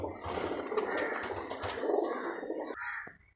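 Low, throaty coos of Giribaz pigeons repeat steadily over a soft background rustle, fading out near the end.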